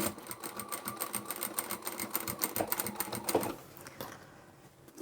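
A sewing machine runs steadily, stitching the side seam of a fabric bag, with a fast, even mechanical rhythm for about four seconds before it slows and stops, followed by a quiet moment and a soft handling noise at the end.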